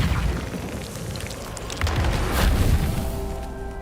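The Reparo repair spell is cast in Hogwarts Legacy, making a loud magical whoosh with booming bursts and a shimmering tail, with no talking.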